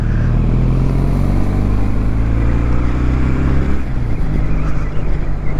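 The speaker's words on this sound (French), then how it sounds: "j'aime beaucoup ce bruit de twin" A 2023 Kawasaki W800 twin-cylinder motorcycle engine with peashooter-style exhausts idles loudly and steadily nearby, with a deep rumbling throb and a slight rise in revs toward the end.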